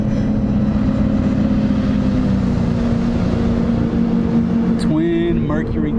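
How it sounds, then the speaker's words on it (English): A boat powered by twin Mercury 300 racing motors roars loudly and steadily nearby on the water, with a rising whine near the end and people talking over the engine noise. "Twin Mercury 300 racing motors."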